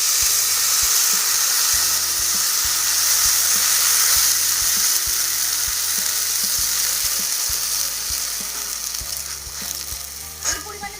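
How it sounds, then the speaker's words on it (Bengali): Water poured onto fried mung dal in a hot kadai hisses loudly in a dense, continuous steam sizzle, easing off toward the end as scraping stirs rattle the pan. "আমি ডালটার মধ্যে এখন জল দিয়ে দেবো সিদ্ধ করার জন্য।"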